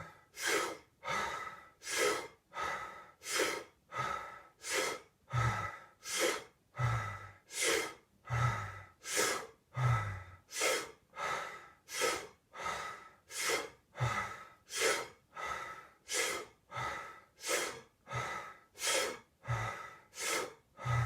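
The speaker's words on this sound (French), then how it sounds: "on y va pour 30 respirations" Deep rhythmic breathing of the Wim Hof method, a long steady series of forceful inhales and exhales, each breath a loud close rush of air repeating about once per second without talk.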